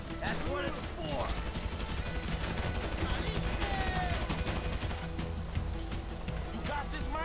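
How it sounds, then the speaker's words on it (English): Gunfire in GTA V, rapid overlapping shots and bursts crackling almost continuously over a busy game mix of engine noise and crashes, with characters shouting throughout. "Shoot that gun, kid! That's what it's for!"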